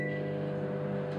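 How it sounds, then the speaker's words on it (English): A steady, low electrical hum with a faint whine on top, continuous and unchanging, from a microwave oven running nearby while heating jam. "Now what I want to do is heat these up in the microwave."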